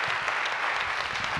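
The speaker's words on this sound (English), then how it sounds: "Would you mind giving him an applause on our behalf" Audience applause at a scientific talk on high LDL cholesterol in keto dieters, honoring a researcher: a dense, steady wash of many hands clapping throughout the short burst.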